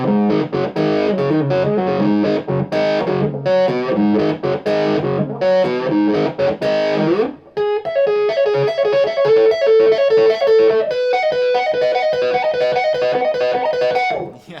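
An electric guitar, a Fender Modern Player Thinline Telecaster Custom, plays through a high-gain amp pushed into gritty, fuzz-like distortion, loud chords giving way to a sustained riff with no talking.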